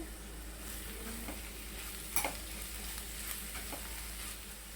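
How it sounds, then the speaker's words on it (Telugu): Onions frying in a pan, a soft steady sizzle with a few light stirring scrapes and clicks, fairly faint and continuous, no voices. "ఆనియన్స్ చక్కగా ఫ్రై అయిపోయినాయి"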